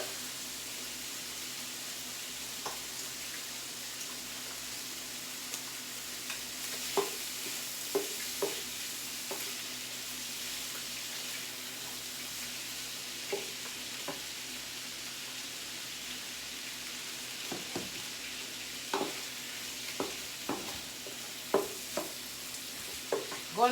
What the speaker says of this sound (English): And I'm just going to stir in my vegetables.